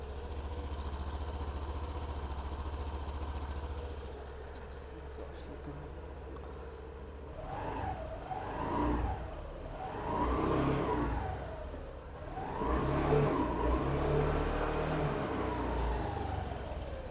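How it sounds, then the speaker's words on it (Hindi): Honda Activa 125 scooter, a 2025 BS7 model, kick-started with its fuse removed, its engine running steadily and revving in several rising and falling swells from about the eighth second, with an idle hum before and some talk underneath. "आपको इसका एक बार एग्जॉस्ट साउंड सुना देते हैं कि इसका जो एग्जॉस्ट साउंड है वो कैसा है।"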